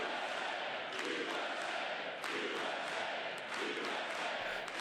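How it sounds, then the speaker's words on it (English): A large crowd heckles in a legislative chamber, shouting and jeering in a steady, echoing roar, no single voice standing out. "There's heckling now."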